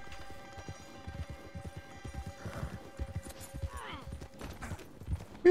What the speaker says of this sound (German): Na komm, ich bin ja nur im Traben.